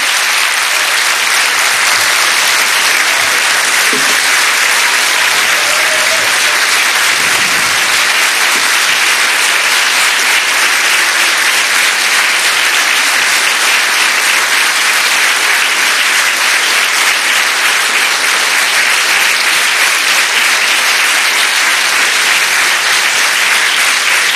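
Loud, sustained applause from a large audience, steady clapping filling the space without pause.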